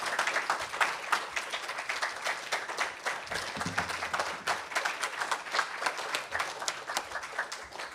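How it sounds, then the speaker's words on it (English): Audience applauding author Paul Lisicky after his faculty reading, a dense steady wash of many hands clapping that carries on evenly for the whole stretch, close and fairly loud in a hall. "Another round of applause for Paul Lisicky."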